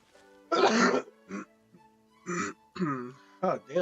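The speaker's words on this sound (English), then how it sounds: "my allergies are still bad, and especially the coughs" A person with allergies coughs and clears their throat close up, several harsh bursts in a row with short gaps between them and some voiced sounds mixed in.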